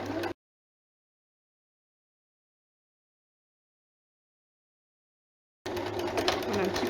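A sewing machine stitches a seam on a jersey top, heard as two brief bursts of close, steady whirring at the very start and again near the end, separated by a long stretch of silence.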